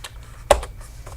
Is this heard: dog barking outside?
no